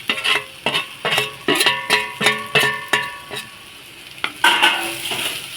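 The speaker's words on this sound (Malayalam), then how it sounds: "ഇനി ഇത് രണ്ടും കൂടി നന്നായിട്ടൊന്ന് മിക്സ് ചെയ്ത് കുറച്ച് സമയം ഒന്നുകൂടെ ഒന്ന് ഫ്രൈ ചെയ്തെടുക്കണം" Dried prawns and onions stir-fry together in a pan for a prawn roast, a bright sizzle under a quick run of rhythmic metal spoon scrapes and taps, close up with a short pause before the stirring resumes.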